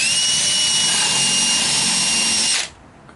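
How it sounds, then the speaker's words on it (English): Power drill driving a screw at an angle into wood for a wooden porch swing: a loud, close, steady high whine that runs continuously and then cuts off abruptly, heard alone without talk. "drill it in at an angle like that"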